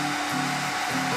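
A hair dryer blows steadily up close while drying a watercolour pencil drawing, a loud constant whir with slight wavering in pitch.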